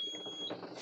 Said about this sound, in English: In reverse, you've got your little reversing beeping sound